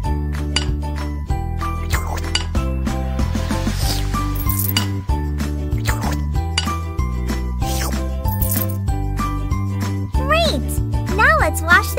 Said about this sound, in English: Wash the dishes.